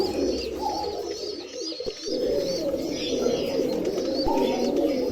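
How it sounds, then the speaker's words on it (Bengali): Red Turibaj roller pigeons coo continuously and fairly loudly close by, their throaty rolling calls overlapping with faint chirps in the background. "এগুলো টোটালি লাল তুরিবাজ কবুতর একবারে টকটকা লাল তুরিবাজ"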